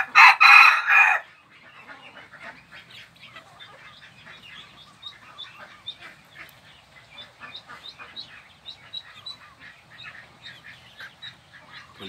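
White-tailed bantam rooster crowing in the morning: one loud, close crow opens, then a continuous chorus of softer chirping and clucking birds fills the background.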